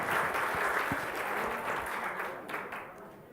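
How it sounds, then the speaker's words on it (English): Applause from a group at a health workshop, a steady wash of many hands clapping that fills the whole stretch and fades slightly toward the end, with a few low thumps and a faint voice underneath. "And a round of applause for everyone, yeah?"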